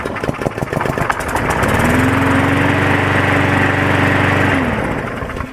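A Hyper Tough petrol walk-behind lawn mower is pull-started, a few sputtering chugs giving way to a loud, steady engine drone that runs for several seconds before fading slightly, close by with no talking.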